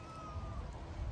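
A cat outdoors lets out one faint, drawn-out meow, distant and quiet under steady background noise.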